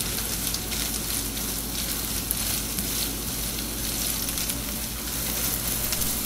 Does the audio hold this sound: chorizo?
yes